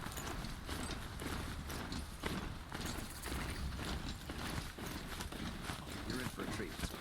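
Galloping hoofbeats of a ridden cow-like mount in the video game Horizon Zero Dawn, a steady rapid clatter running throughout beneath game music and ambient noise, with a voice speaking over it.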